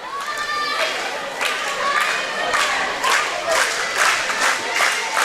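A wrestling crowd cheering and shouting in support of a wrestler, loud, sustained roaring voices swelling in waves across the whole stretch.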